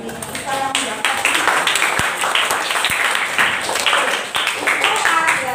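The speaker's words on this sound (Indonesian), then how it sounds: "beri tepuk tangan bagi kita yang mendapat" Applause from the audience at an Indonesian teachers' coaching and academic supervision session, dense clapping running steadily throughout with a few sharp low thumps, recorded fairly close.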